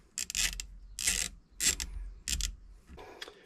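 Wrench turning the bolts on a voltage regulator during a replacement, giving four separate bursts of ratcheting, clicking strokes in a steady rhythm, close and moderately loud, with no talk.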